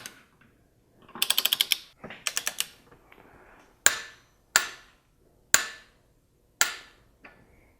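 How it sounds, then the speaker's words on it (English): A hand ratchet snugging an 18 mm bolt on a VW MK7 pendulum (dogbone) engine mount: a couple of quick bursts of rapid clicking, then four sharp, evenly spaced single clacks, close and loud. "we're going to torque our 18 millimeter in place"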